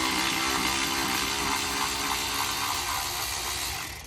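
A power auto ratchet runs steadily at close range while pulling the intake on a 3.6 Pentastar engine, a continuous whirring buzz that fades slightly at the end.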